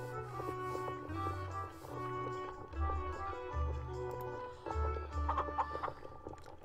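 Chicken clucking in short repeated bursts as it is fed seeds in the video game Lost in Bardo, over a bouncy melodic game tune, fairly quiet overall.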